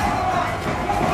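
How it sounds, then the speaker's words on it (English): An esports arena crowd erupts in loud, sustained cheering and roaring after RRQ Hoshi wins the first game of an MPL Indonesia Season 14 regular-season match, a dense, continuous wall of noise with no gaps. "And the crowd goes wild."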